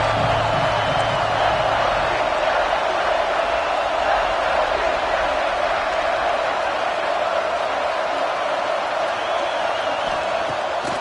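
A stadium crowd in a college football video game keeps up a steady, dense roar of cheering that holds at the same loudness for the whole stretch.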